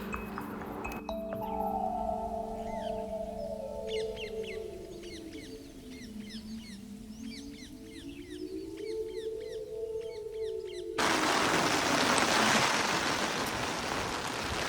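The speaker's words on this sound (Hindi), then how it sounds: "अचानक से बारिश शुरू हो जाती है।" Monsoon rain in a forest starts suddenly, a loud, dense hiss of downpour near the end, after birds chirping and a low, wavering tone.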